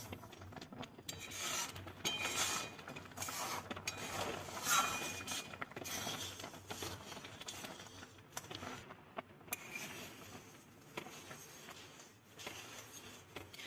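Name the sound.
spoon stirring cauliflower payesh (rice pudding) in a pot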